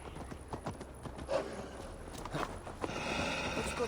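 Horse hooves clip-clop at a steady walking rhythm on a ride in Assassin's Creed Valhalla, close and fairly soft, with a brief whinny and a rising ambient bed toward the end.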